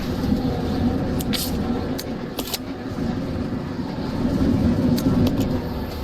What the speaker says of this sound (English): all I can hear is the sound of the train.